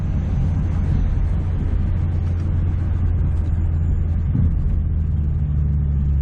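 Cabin of a 2006 Ford Mustang with a bump shifter and no clutch, its engine droning loudly and steadily with a brief rise in pitch around a gear change, while road rumble continues underneath without talk.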